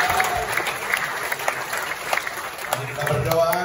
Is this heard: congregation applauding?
yes